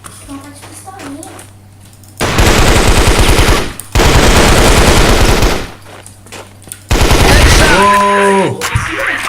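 Loud gunfire in the video game Cross Fire, long rapid bursts of shots heard in three stretches of about two seconds each, with quiet gaps between them and a player talking faintly between and over the shooting.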